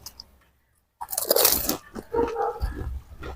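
Crisp fuchka shells crack and crunch between the teeth in a few close bites and chews after a moment of silence.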